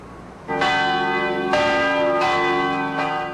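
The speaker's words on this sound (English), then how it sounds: "Bells ring in many churches in Los Angeles, in New York." Large church bells toll at noon in slow succession, each strike ringing out with a long, shimmering decay that overlaps the next.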